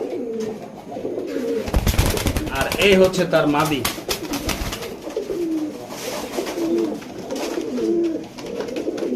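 A big-sized pair of Dudh Khaki high-flyer Giribaz pigeons coos repeatedly at close range, with a burst of wing flapping early on, while someone talks over the birds.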